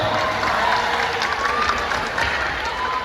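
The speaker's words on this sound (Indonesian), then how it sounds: "tepuk tangan dulu untuk beliau" A seated audience at an Islamic religious talk claps steadily throughout, a dense wash of applause with a few voices mixed in.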